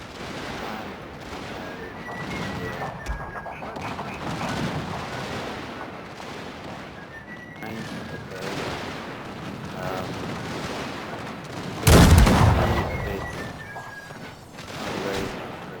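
Musket volleys crackle across a Total War FotS battlefield set in the Carlist Wars, with rolling distant gunfire and one sharp, louder volley near the end, faint voices murmuring underneath.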